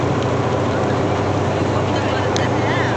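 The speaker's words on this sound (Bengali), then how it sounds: "ট্রলারে করে আমরা নদী ভ্রমণ করছি।" Trawler boat engine droning steadily and loudly on board during a river trip, a constant dense rumble with the hiss of wind and water laid over it.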